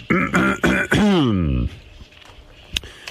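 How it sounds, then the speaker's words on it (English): A man clears his throat with several rough, voiced rasps ending in a drawn-out gravelly sound, close to the microphone in a radio studio, followed by a quiet pause with a faint click. "Have to clear my throat."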